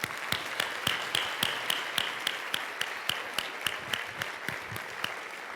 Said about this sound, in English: why don't we have one last round of applause